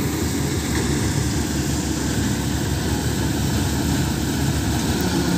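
A combine harvester runs in a field with a loud, steady mechanical roar and dense droning hum that stays constant throughout, without voices.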